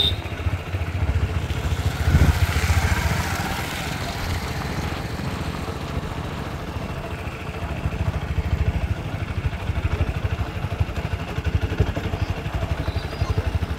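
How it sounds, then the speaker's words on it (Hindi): A motorcycle rides along a village road, its engine chugging steadily and close throughout, with a brief rise in revs near the start. "रास्ते के में बाइक का आनंद उठाइए आप लोग।"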